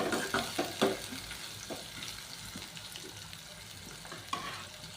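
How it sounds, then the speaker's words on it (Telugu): Onion and green chilli pieces sizzling steadily in a pan, with a few louder stirring scrapes early on; close and moderately loud, no talking. "ఉల్లిపాయ ముక్కలు, పచ్చిమిరకాయ ముక్కలు. ఇవి కొంచెం ఎర్రగా ఉడకాలన్నమాట."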